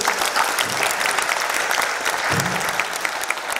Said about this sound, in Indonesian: Sekali lagi tepuk tangan untuk Bu Deni.